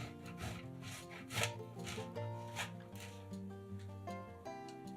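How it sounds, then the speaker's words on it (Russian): Repeated rasping strokes of cheese being grated, steady and rhythmic, with music playing in the background. "50 грамм сыра трем на терке."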